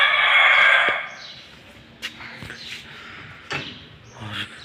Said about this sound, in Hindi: और अभी मुर्गियाँ भी बाहर हैं